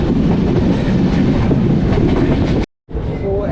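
The Ernakulam Duronto Express rushes through Kopar station with a loud, continuous rumble and rhythmic wheel clatter, then a brief dropout before the roar of the train resumes.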